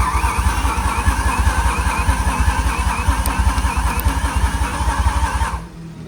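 A BMW M5 E60 engine cranks over on the starter without firing, a steady rapid chugging rhythm heard close for about five seconds before it stops.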